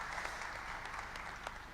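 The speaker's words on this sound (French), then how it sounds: "ça mérite des applaudissements" A conference audience claps briefly after a speaker's remarks, a soft, fairly distant patter of many hands that stays even throughout.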